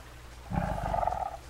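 A tiger in the zoo-building game Planet Zoo gives a single deep, rumbling roar lasting about a second, close and clear after a quiet start.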